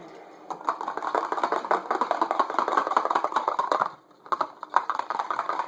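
A whisk beating meatloaf ingredients with eggs in a bowl, a fast steady clatter of rapid ticking strokes that runs for several seconds, pauses briefly, then resumes, close and fairly loud.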